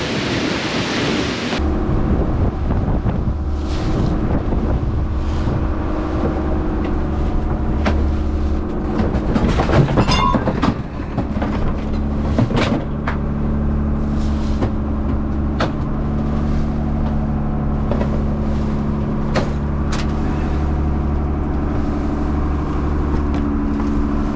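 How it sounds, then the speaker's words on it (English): Wind of 20 to 30 mph gusts against the current while choppy waves slap around a small boat crossing Hell Gate. A constant loud roar sits over a low engine-like drone, with sharper splashes and buffeting bursts throughout. "It's got high winds, probably 20 to 30 miles an hour, going against the current. So the waves are starting to kick up,"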